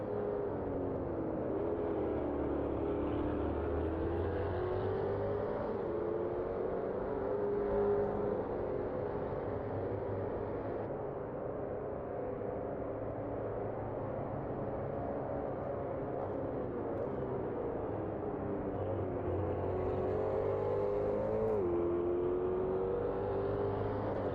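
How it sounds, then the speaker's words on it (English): Ultima GTR race car engines in an Automobilista 2 racing game at Termas de Rio Hondo roar and whine continuously, rising and falling in pitch as cars speed past, with a steady mechanical drone throughout and no talking. "Let you enjoy the sight and the sound of the cars flying by."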